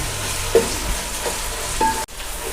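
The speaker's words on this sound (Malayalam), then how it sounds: "ഇത് ഇട്ടിട്ട് നല്ലോണം ഇളക്കണം കേട്ടോ, അല്ലെങ്കിൽ അടിക്ക് പിടിക്കും." Onions with ginger garlic paste fry and get stirred in a pan, a soft, continuous sizzle with a few scraping stir strokes and one brief knock.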